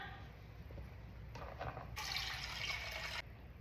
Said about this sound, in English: So now we are gonna strain our coconut milk through my fancy designated coconut milk straining bandana.